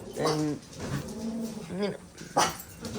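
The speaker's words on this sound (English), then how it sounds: "I apologize for the dogs." Several short barks and yelps from dogs nearby, rising and breaking off at intervals, with a person speaking briefly among them.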